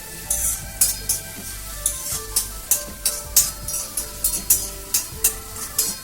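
Onion, garlic, curry leaves, ginger garlic paste, chilies and tomatoes sizzling in a pan for daal fry, with a utensil scraping and stirring in a steady rhythm of about two strokes per second, close and loud, no talk.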